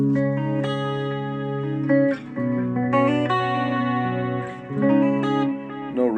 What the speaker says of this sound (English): It's got a little delay on. Let's see. Memory Man.